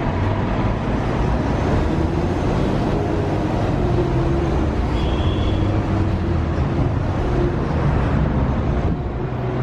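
Car driving home along a road, a continuous rumbling cabin and road noise heard from inside, steady and moderately loud throughout with no talking.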